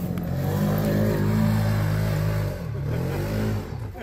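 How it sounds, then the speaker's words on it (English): Can-Am Commander side-by-side climbing a sandhill, its engine revving hard and steady up close with layered harmonic drone, easing briefly near the end before pulling again; no talk. "Now he's going up in his father-in-law Dan's Can-Am Commander."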